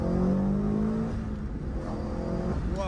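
A turbocharged Toyota GR86 with an AVO turbo kit revs hard and climbs in pitch as it accelerates, heard from inside the cabin, loud and steady with no talking.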